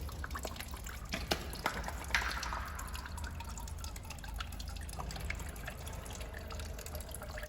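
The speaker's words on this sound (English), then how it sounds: "We will drain the solution which contains the coolant flush from the system" Coolant flush solution drains from the cooling system of a 1999 Maruti Zen, a steady trickle and dripping of liquid with a few sharper splashes, fairly quiet and close, with no talk over it.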